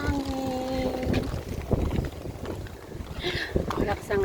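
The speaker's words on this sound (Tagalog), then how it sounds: "Malakas ang hangin." Strong wind gusts outdoors on a mountain, a constant rough roar buffeting the microphone throughout, loud and close, with faint voices underneath.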